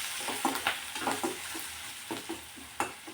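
Crushed green chili kharda sautés in oil in a pan, a quiet steady sizzle punctuated by short spoon scrapes and taps at an irregular rhythm, close and alone.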